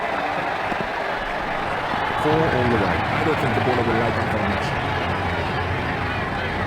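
A stadium crowd in the Ashes Cricket 2009 video game roars for a boundary four during a Saint Lucia versus Amazon Warriors match, a steady, dense wash of cheering and applause that holds loud throughout while a commentator talks over it midway.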